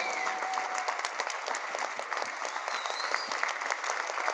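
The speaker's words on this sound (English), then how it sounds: "Let's stand up and give them a round of applause, huh?" A standing audience at a community celebration honoring United Way gives a round of applause: steady, dense clapping from many hands, sustained and even throughout, with faint voices mixed underneath.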